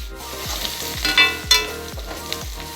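Curry leaves sauté in hot oil in a pan while mutton pepper fry is made, with a loud, continuous sizzle broken by repeated scraping stirs, close up and without speech.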